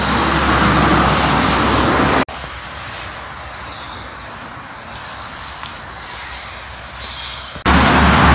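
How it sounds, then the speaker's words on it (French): Cars passing on a road beside a walking path, a loud broadband roadway rush at the start and end with a quieter stretch of distant traffic hum in between. "il y a des voitures"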